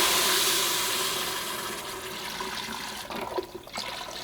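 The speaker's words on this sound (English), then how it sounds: "we're going to pour in our box of chicken stock and deglaze the pan." Boxed chicken stock pouring into a hot pan to deglaze it, a loud rushing sizzle of liquid that gradually settles into a softer bubbling simmer, with no talking.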